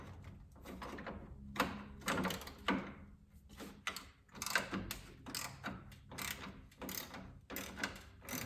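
A socket ratchet loosens 10 millimeter bolts on a Ford Bronco, clicking in repeated bursts of pawl clatter separated by brief pauses, close and fairly quiet, with no speech.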